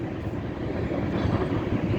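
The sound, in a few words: CP freight train passing in Weyburn, Saskatchewan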